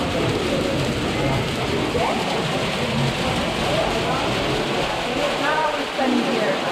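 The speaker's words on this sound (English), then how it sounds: "We're getting hail here." Tiny pea-sized hail falls steadily outdoors in a dense, continuous patter of small pellets, loud and close, with brief voices now and then underneath.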